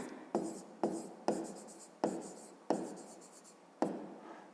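Six quick bursts of pen-on-paper handwriting scratch close by as a math problem about angles is written out. The strokes come in an uneven rhythm in a quiet room.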